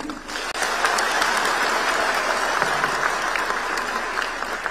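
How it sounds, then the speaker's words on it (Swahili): A large crowd claps in sustained applause after a president's speech, a dense, even patter that swells in quickly and holds steady. "Makofi."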